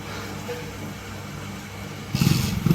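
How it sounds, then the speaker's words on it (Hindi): A motorcycle engine rumbles low and unevenly in the background, then kicks to life with a louder, rougher burst near the end. "ये भैया की बाइक स्टार्ट नहीं हो रही है"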